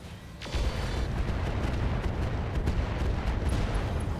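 Heavy weapons fire from mechs in the RogueTech battle game, a sudden loud boom followed by a dense, sustained rumbling barrage of blasts and impacts that fills the rest of the stretch.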